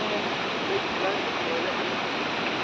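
The Rongbang river and waterfall in Meghalaya rush steadily, a broad, continuous roar of flowing water close by, with a voice faintly under it.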